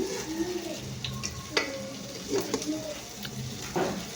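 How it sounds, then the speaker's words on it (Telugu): Jaggery syrup boils in a pan while fried lentil fritters are dipped and stirred in it, giving a soft continuous bubbling sizzle with occasional clinks and scrapes close by. "పానకం కూడా పక్కలు మరుగుతుంది"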